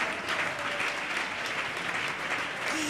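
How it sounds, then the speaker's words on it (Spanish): A congregation claps for the Lord during a church service, a steady, even wash of applause, moderately faint and continuous from start to finish without any pause. "Denle ese aplauso al Señor."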